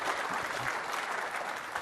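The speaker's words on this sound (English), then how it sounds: "Everybody give yourselves a round of applause." Audience applause fills a Microsoft Ignite 2015 conference session, a dense, steady wash of many hands clapping at once throughout, with no pauses.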